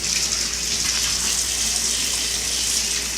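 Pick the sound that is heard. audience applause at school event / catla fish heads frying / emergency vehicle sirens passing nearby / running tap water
running tap water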